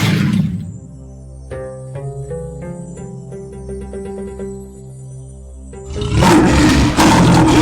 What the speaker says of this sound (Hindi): अबे ये तो शेर की आवाज है सालो।